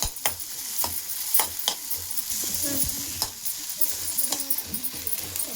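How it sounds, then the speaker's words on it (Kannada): Cumin and fenugreek seeds fry in a pan, a steady sizzle broken by sharp stirring scrapes and clinks at irregular intervals, close and fairly loud with no talking. "ಜೀರಿಗೆ ಹಾಕ್ತಾ ಇದ್ದೀನಿ. ಆಮೇಲೆ ಒಂದು 4 ಕಾಳು ಮೆಂತ್ಯ ಹಾಕ್ತೀನಿ. ಫ್ರೈ ಮಾಡ್ಕೊತೀನಿ."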